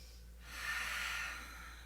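A single deep breath drawn in and slowly let out during a yoga stretch, close and moderately quiet, with a soft airy rush that swells and fades, no talking.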